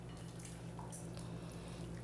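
Liquid is poured into a casserole dish in a home kitchen, making a steady close trickle and splash without any talk.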